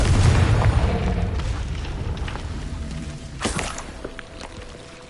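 Confringo blasting spell explosion in a Harry Potter video game, a deep booming blast at the start that rumbles and slowly fades, with a smaller burst partway through.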